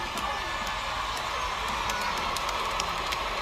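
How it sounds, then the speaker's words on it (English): A crowd at a boxing fight cheering in approval, a steady, broad roar of voices sustained throughout. "The crowd showing their approval and their appreciation"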